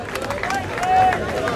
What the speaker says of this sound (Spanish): Un fuerte aplauso, dale, dale, dale.